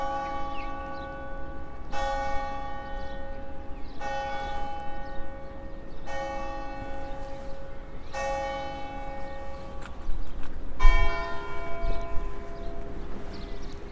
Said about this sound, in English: So there were 6 bells and the quarter after. 6:15, ringing the bell here